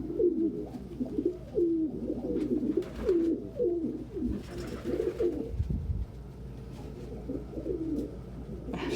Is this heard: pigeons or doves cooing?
yes